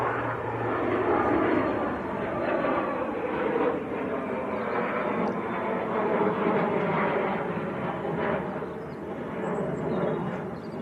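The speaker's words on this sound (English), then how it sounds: "This little Learjet sneaking out on us and never even saw that taxi away." A German Learjet 60 taxis at Manchester Airport, giving a steady, broad jet-engine roar heard from a moderate distance that swells and eases slightly throughout.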